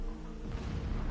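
Explosions in the video game Horizon Zero Dawn, a brief dense burst of booming low rumble, loud and alone with no talk.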